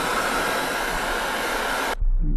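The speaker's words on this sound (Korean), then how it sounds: "또 드라이기로 또 더 해보겠습니다" A hair dryer blows hot air over freshly applied corrosion-effect paint, a loud steady whooshing hiss that cuts off abruptly near the end.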